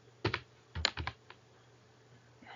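Keys on a computer keyboard clatter in two short quick bursts of typing, close and fairly quiet, with a low steady hum underneath and a lone click afterward.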